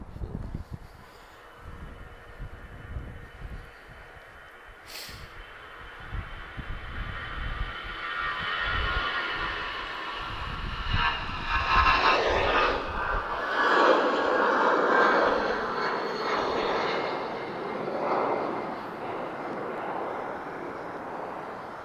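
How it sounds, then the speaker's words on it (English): An Airbus A320 departs Lisbon Airport, its engine roar building from a low rumble into a broad, loud jet whine and rush that swells and then slowly eases as the aircraft climbs away. "This is an A320, and she's off to lovely Porto."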